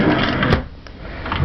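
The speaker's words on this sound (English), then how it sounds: "Another drawer." A drawer in a Carnival Dream ocean-view cruise ship cabin opens or closes with a short wooden knock and slide, heard once amid steady cabin room noise.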